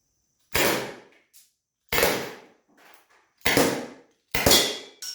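A Byrna SD launcher powered by a CO2 cartridge fires four sharp, loud pneumatic pops spaced about a second and a half apart, each followed by a brief hiss or rattle.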